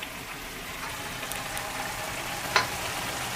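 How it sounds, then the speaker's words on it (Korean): Korean ramen sauce with chili powder simmers and bubbles in a pan while being stirred, a steady soft sizzling hiss with a faint scrape of the spoon now and then. "그리고 다시 섞어주며 잘 끓여주세요."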